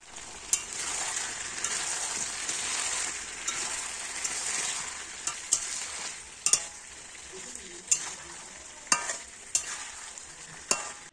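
Food fries with a bright, constant sizzle in a pan as a utensil stirs, with sharp metallic clacks against the pan at irregular intervals, close and clear.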